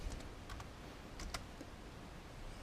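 Keystrokes on an Altair 8800 computer keyboard as a command is entered, a few quick clicks in two small clusters, close and fairly quiet over a steady background hum.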